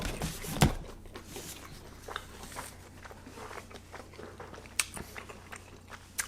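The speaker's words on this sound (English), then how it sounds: "let's go in for a bite" A sharp crunchy bite into a slice of cheese pizza at close range, followed by quieter scattered chewing and mouth sounds against a soft background.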